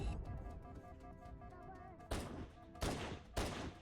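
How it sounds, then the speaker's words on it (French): Gunfire and a grenade blast in the Halo video game, starting as steady rattling fire and then breaking into three loud, sharp bursts of explosions and shots close by. No voices are heard. "On balance une petite grenade."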